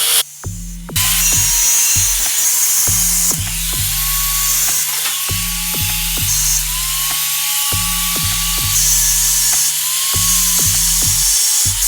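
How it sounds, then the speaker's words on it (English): An angle grinder cuts through a metal candelabra being trimmed down for a plant stand, loud whining bursts repeating in a steady rhythm, each cut starting and stopping with brief pauses between. "get the grinder and chop down this candelabra"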